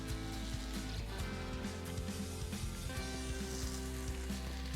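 Strips of tomato sizzle in a frying pan on a home stove, a steady crackling fry that carries on without a break, fairly close and with no talking.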